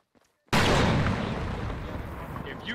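After half a second of near silence, a grenade goes off in a video game as one sudden, loud, close blast. A long rumbling roar follows and fades slowly.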